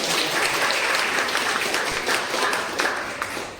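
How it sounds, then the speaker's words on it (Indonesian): Audience applause at a talk, dense steady clapping from a crowd that holds throughout and tapers slightly at the end. "boleh kasih tepuk tangan lagi dong"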